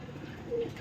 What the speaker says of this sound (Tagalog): Ayan mga kalapatids, nag-raging na yung ating mga ibon.